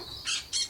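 A green parrot in an animated Hindi children's story gives two quick, harsh, shrill squawks in close succession, loud and alone.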